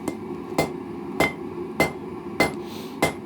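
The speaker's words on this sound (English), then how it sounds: "So I'm going to start by just hammering on both sides at an angle." Six sharp hammer blows on hot steel bar stock at an even, unhurried pace, each ringing briefly, close up with no talking.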